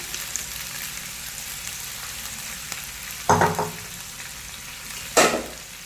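Onions and black chickpeas frying in a pan hold a low, even sizzle, broken by two loud spatula scrapes and stirs a couple of seconds apart, with no speech.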